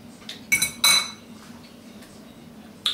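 A fork clinking against a plate while shrimp pasta is tasted, two quick bright metallic clinks close together, then quiet, then one more short clink near the end.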